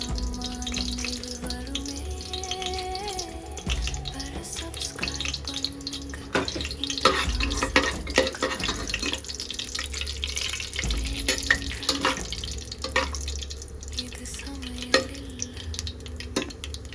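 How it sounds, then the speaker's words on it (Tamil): Mustard seeds splutter in hot oil in a pan for a Tamil dry fish curry, a steady close crackle and fizz with scattered sharp pops and some stirring clatter. "கடுகெல்லாம் நல்லா பொரிஞ்சுது."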